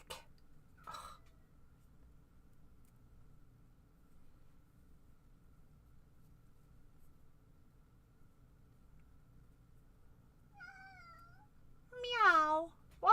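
A cat gives a brief chirp early on, then after a long quiet stretch lets out a couple of clear meows, ending with a louder drawn-out one close by.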